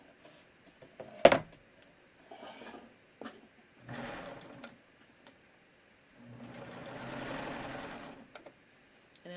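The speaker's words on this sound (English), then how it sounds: "So I am just going to start stitching through all of these layers." A sewing machine stitches through layered rib knit on a raglan sleeve top in several separate bursts, the longest near the end, with quiet handling gaps between runs.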